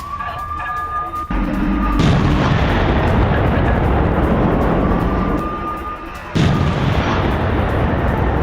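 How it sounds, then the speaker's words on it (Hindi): Ukrainian rocket strike on a Russian tank in wartime, with loud, continuous roaring blasts and rumbling explosions, sudden surges of noise, and heavy low booms that stay dense throughout. "यूक्रेन ने रॉकेट से रूसी टैंक को निशाना बनाया है"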